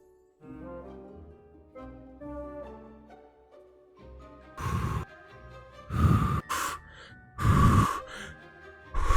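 Heavy, deliberate breathing by a player, several loud gasping breaths in and out close to the microphone, following a stretch of quieter tonal sound with no talk.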